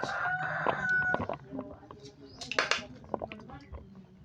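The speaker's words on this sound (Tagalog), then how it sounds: "magpakain ng alagang manok" A rooster crows loudly nearby, followed by scattered clucks of backyard chickens and clinks of metal feeding dishes, with some faint voices in the background.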